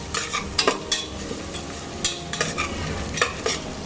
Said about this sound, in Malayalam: ഇത് നന്നായിട്ടൊന്ന് മിക്സ് ചെയ്ത് കൊടുക്കാം